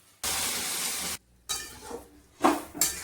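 Fried soybean chunks cook in a pan with a loud steady sizzle that cuts off, then returns in softer stirred bursts with a few clinks of utensils against the pan.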